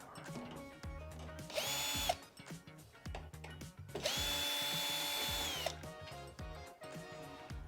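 A power drill backs screws out of the top panel of a Fisher Paykel tumble condenser dryer in two short whirring bursts, with clicks and ratcheting tool handling between them, close and fairly quiet.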